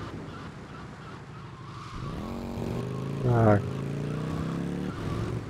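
Motorcycle engine in GTA Vice City, a steady mid-level drone with a rising rev partway through and a brief louder burst near the end, under someone talking.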